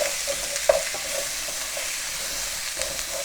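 Garlic, ginger and broccoli stir-frying in hot oil in a pan, a loud, constant sizzle with a few scraping stirs and light clacks close by.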